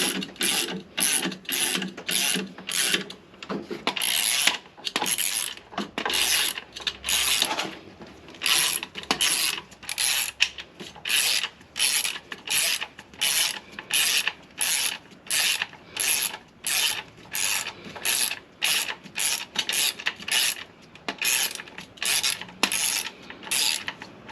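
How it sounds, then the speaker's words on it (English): Motorhome scissor jack being wound down and removed after a tyre change, giving a long run of regular rasping ratchet clicks in steady bursts, close and fairly loud, with no talking. "now we'll just remove the rest of the jack"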